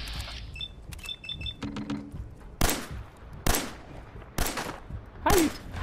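Bursts of gunfire from the video game Fallout 4, several loud broadband shots spaced about a second apart, preceded by faint electronic beeps and mechanical clicks, with no talking.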